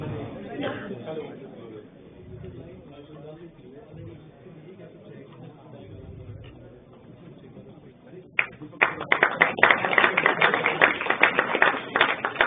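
After several seconds of someone speaking, dense, loud applause from a university audience erupts and keeps going at a Bhagwan Birsa Munda Jayanti and Janjatiya Gaurav Diwas ceremony at CBLU, Bhiwani.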